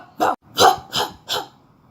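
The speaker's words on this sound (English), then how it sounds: "Into his ear, he started barking." Four short, sharp barks in quick succession, close and loud with brief gaps between them, and no other sound around them.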